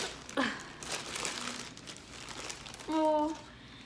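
Someone struggles with a small greeting card package, close crinkling and rustling of wrapping while a voice speaks briefly over it.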